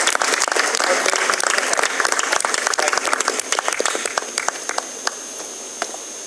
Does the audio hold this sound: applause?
yes